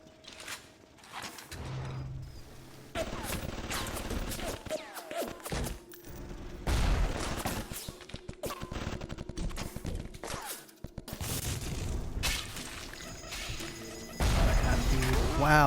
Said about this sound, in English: there's a fuck ton of turrets in here